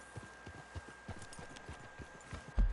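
Horse hooves clip-clop in Red Dead Redemption 2, a quiet, steady rhythm of soft low thuds at a walking pace, with a louder knock right at the end.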